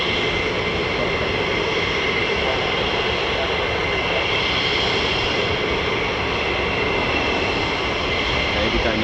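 F-15 or F-35 fighter jets taxiing at RAF Lakenheath, a loud, steady, broadband engine roar with a high whine on top, continuous throughout.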